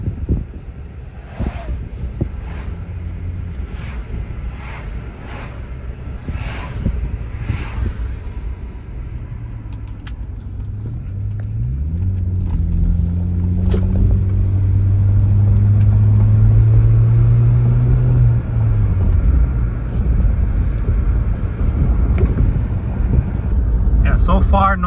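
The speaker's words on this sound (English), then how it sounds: "So we're driving, enjoying the ride." A 2000 Toyota Avalon XLS with 322,000 miles cruises steadily, its low road and engine rumble swelling midway with rising engine tones, while wind buffets the microphone and a few faint clicks and knocks sound early on.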